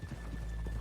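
Horse hooves clip-clop at a walk in Red Dead Redemption 2, a few soft, quiet steps in a brief, faint moment.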